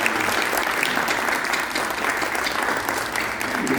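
A congregation claps at a church New Year service, a dense, loud, sustained round of applause that fills the room evenly from start to finish.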